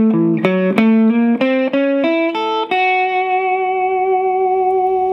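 Electric guitar plays an advanced blues transition lick slowly, a run of distinct picked and bent notes that settles into one long ringing sustained note with effects and reverb, heard alone.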